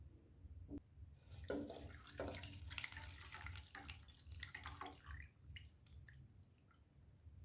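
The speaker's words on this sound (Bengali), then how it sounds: "ছানাটা আমি যেহেতু ভিনিগার দিয়ে কাটিয়েছি, সেজন্য জল দিয়ে ধুয়ে নেব।" Chhana (curd cheese) rinsed under running water from a tap, a soft, splashy gush that rises and falls with wet squishing and a few drips, close and quiet.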